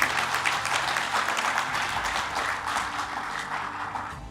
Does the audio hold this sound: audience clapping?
yes